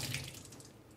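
A freshly peeled vegetable is rinsed under a running kitchen tap, a steady soft splashing stream into the sink, continuous and fairly quiet with no voices.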